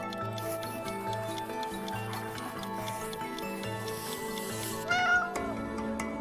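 A cat meows in the video game It Takes Two, its cries rising over a looping, plucky game soundtrack. A louder, clearer meow stands out near the end of the stretch.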